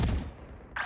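A gunshot from Valorant, a single loud crack at the very start that quickly decays into low rumble, followed by a brief bright burst near the end.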